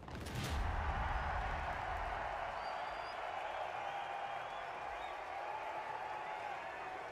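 Sustained applause and crowd noise in the video game The Finals, with a burst at the start, steady and fairly loud throughout, with faint voices mixed in.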